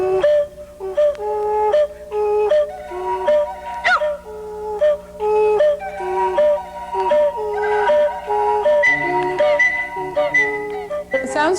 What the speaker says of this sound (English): The sounds you hear are from our flute tester, Steve Finley